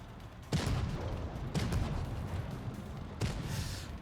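Tank cannons fire in the World of Tanks Blitz video game, three heavy booming shots spaced about a second or more apart, each a sharp broadband blast with a rumbling tail over steady low battle noise.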